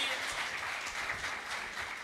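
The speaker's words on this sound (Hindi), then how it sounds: "एक बार जोरदार तालियां जी जेनिफर के लिए" An audience applauds a singer on a talent show stage, a soft, steady wash of clapping that sounds distant and fairly faint, running evenly throughout.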